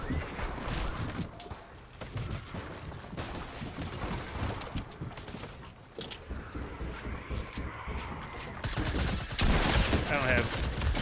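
Shotgun blasts and other weapon fire in the Fortnite video game, in sharp repeated bursts under a player talking.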